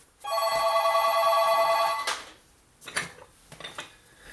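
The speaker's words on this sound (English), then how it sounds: "uh-oh, the phone's ringing" A landline telephone bell rings in one continuous metallic burst of about two seconds, close and clear, then cuts off as the handset is lifted, leaving clunks and handling noises.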